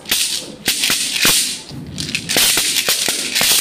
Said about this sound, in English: the native maracas is louder than the english maracas